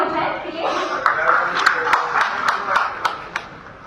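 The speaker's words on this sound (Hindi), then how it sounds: "तालियां हो जाए के लिए" Scattered claps from an audience at a political event, a few sharp hands slapping unevenly beneath a crowd's chatter and talk.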